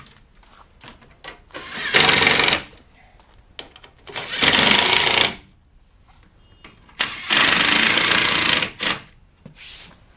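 A power tool drives bolts on a Ram Promaster rear bumper step kit in three loud whirring bursts, each lasting about a second or more, with quieter handling noise between them.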